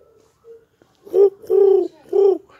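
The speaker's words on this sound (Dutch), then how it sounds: "En hier zit een duif, redelijk hard lawaai te maken." A pigeon coos loudly and close by, with a few soft notes followed by three long, throaty, rolling coos in quick succession.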